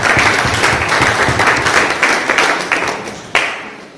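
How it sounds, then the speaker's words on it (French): A crowd at an independence day celebration breaks into loud, dense applause that holds strong, then tapers off with a last burst of claps near the end. "un grand applaudissement du CPO national"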